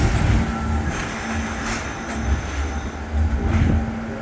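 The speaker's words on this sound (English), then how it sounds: "that F train is actually leaving at the moment" An NYC subway F train pulls out of the station with a steady rumbling rush, a faint tone riding over it and swells of noise as the cars roll past.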